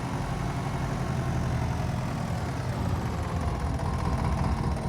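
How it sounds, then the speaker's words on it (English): A Lamborghini tractor engine runs at a steady idle on a potato farm, a continuous low rumbling drone with no talking. "now when we have this new Lamborghini tractor"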